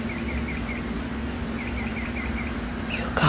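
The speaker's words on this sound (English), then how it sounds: "it's 2:00 in the morning and there are birds chirping." Birds chirp in short repeated bursts at 2 a.m. outdoors, faint and somewhat distant over a steady low hum, with a brief louder noise near the end.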